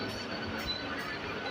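Mumbai local train at a platform of Dadar Central railway station on a rainy morning, a steady dense rumble and rail noise filling the whole moment with no pauses.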